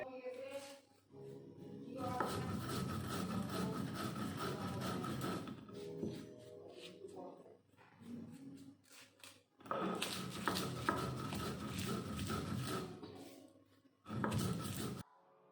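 An electric grinder blitzes spices with a little sugar for a chalta pickle, running in loud, close bursts of several seconds each, with short pauses between pulses.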